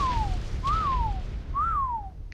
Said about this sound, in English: So I'm gonna whistle them away from the fire spike.